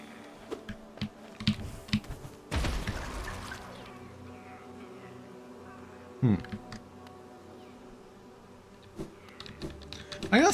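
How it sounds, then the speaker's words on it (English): A swarm of bees bursts out in the video game Hollow Knight, a brief dense buzzing rush, surrounded by scattered clicks of computer keyboard typing and quiet game sounds. "So that thing, like, explodes into bees."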